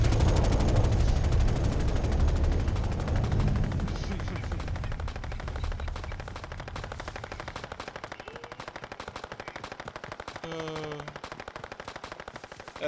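Dense, continuous automatic gunfire from a multiplayer video game rattles loudly at first, then thins into steadier, lighter bursts with a few tonal game effects near the end.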